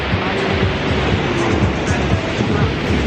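Sea waves wash onto a beach in La Union, a steady broadband roar with soft low surges rolling in every half second or so, close and loud, with wind buffeting the microphone.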